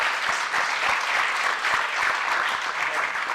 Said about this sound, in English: Give it up for him.